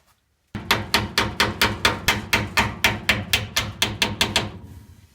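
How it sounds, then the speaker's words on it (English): A hammer taps a brake line back into place on a 1947 GMC's front brakes: about sixteen sharp, evenly spaced metallic strikes, loud and close, after a brief silence, with no talk. "what I'll do is hammer that back into place, tap it back into place"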